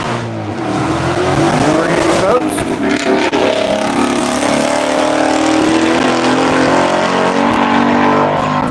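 An HP Tuner Supra race car launches into a timed rally stage, its engine roaring loud and continuous with a rising, sustained note and a brief tire-squeal texture, with background crowd and ambient noise around it.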